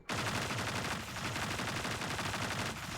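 Sustained rapid automatic weapon fire in Destiny 2, dense and continuous for the whole stretch with a brief break near the end, loud and close, no talking.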